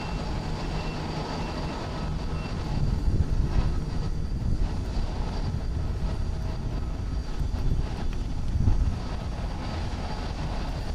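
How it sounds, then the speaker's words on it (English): An All Nippon Airways Boeing 777-200, nineteen years old, comes in to land at Haneda airport in Tokyo with a broad, steady engine rumble and roar that swells slightly near the middle and again toward the end, with no voices. "That is All Nippon Airways, Flight 994, coming in from OKA"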